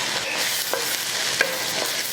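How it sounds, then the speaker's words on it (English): Tomatoes in a hot frying pan for arroz con mariscos give a constant, bright hiss of sizzling, with a couple of faint utensil taps and no voices. "And I'm also going to add my tomatoes."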